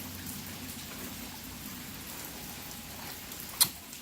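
Steady rain falls on a porch beside woods on a rainy afternoon, a constant even hiss with one sharp drop striking nearby near the end.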